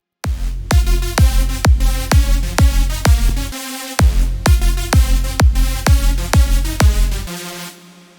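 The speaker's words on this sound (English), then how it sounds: "I'll play all 3 of them now" A synth drop melody for an electronic dance track: bright, punchy stabbed chords over a pounding kick in a steady, driving rhythm, with a brief break mid-phrase, loud and alone.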